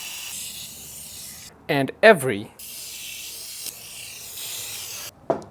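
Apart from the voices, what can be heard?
spraying water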